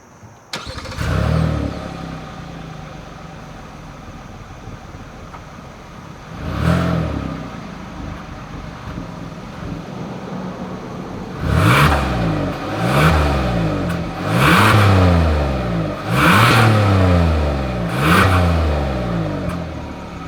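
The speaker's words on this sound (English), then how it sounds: "As always, here is that exhaust clip." 2021 Hyundai Palisade exhaust: the engine cranks and catches, settles into a low idle, gives one rev, then a run of five or six sharp, rhythmic revs close up, with no talk.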